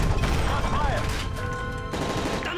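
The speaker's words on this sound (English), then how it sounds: "That's gunfire!" Gunfire in the video game Call of Duty Modern Warfare 3 during a plane hijack scene: rapid automatic bursts and shots in quick succession, loud and close, with shouted voices mixed in.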